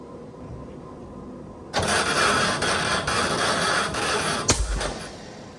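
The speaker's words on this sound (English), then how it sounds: "Solenoid doesn't sound happy." Starter solenoid cranking the engine of a 1968 Oldsmobile Delmont 88 that sat unused for decades; a sudden loud, steady whirring crank after a quiet start, ending with a clunk.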